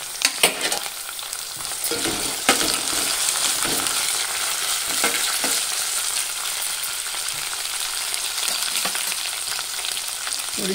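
Mustard seeds, cumin and curry leaves crackle and sizzle in hot oil while jackfruit bhaji is cooked in a Konkan kitchen, a steady close frying hiss with sharp popping bursts throughout and no talking.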